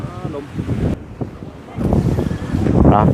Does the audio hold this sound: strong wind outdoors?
yes